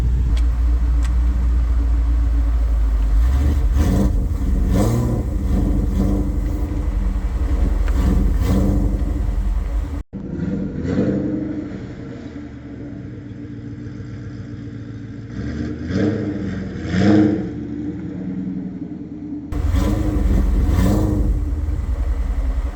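A 2003 Ford SVT Cobra with a McLeod clutch drives down the road, its engine droning loud and close, rising and falling through revs with a brief break mid-drive and a swell near the end.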